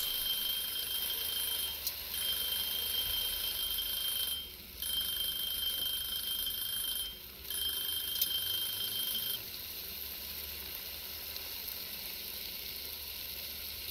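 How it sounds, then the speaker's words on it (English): A kitchen timer alarm in the Cooking Simulator game rings continuously with a high electronic tone over a steady frying sizzle, pausing briefly twice before the ringing stops and the sizzle carries on alone. "Why hasn't that alarm gone off? Oh, it has."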